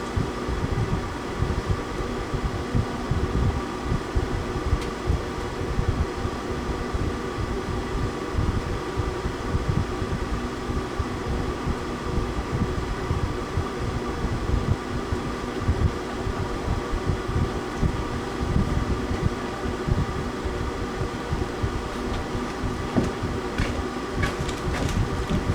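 An Englander pellet stove's blower motor runs steadily with a constant whirring hum and faint rattle, close by and continuous throughout, with no talk over it.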